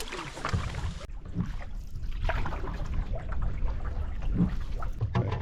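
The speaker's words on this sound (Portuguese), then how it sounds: "Uma mini cachoeirinha aqui." A small waterfall on a lakeside trip in the Temagami backcountry runs as a steady, close splashing wash of water, with some irregular trickles and pours over the top.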